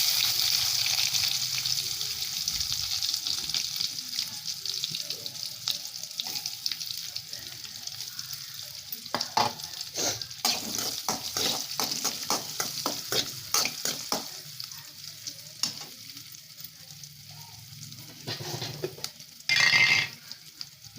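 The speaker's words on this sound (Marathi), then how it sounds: "ते कांदा भाजते" Onions fry with cumin in a pan, a steady soft sizzle broken by a run of sharp spoon-on-pan scrapes and clicks through the middle, with a brief louder burst near the end.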